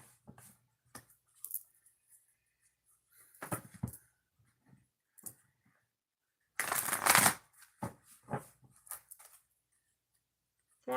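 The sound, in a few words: shuffling a deck of cards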